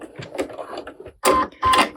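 Two short, loud bursts of sewing machine stitching through thick fur fabric for mittens, a backward stitch then a forward run, following a quieter stretch of light handling sounds.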